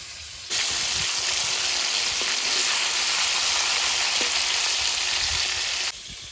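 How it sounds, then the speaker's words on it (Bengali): Fresh river fish fries in oil in a rustic village kitchen, a loud, steady crackling sizzle that bursts in suddenly and holds for about five seconds before cutting off. "মাছ ভাজা হয়ে গেছে এবার তুলে নেব"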